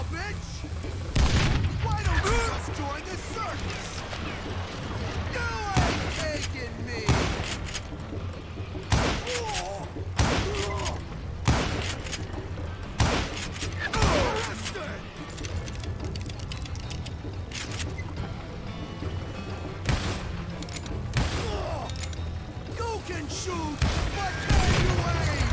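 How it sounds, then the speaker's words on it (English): Call of Juarez gunfire, frequent sharp shots and booming blasts scattered across a noisy game soundscape, with someone talking over the action at times. "Pô, o maluco dá tiro pra caralho"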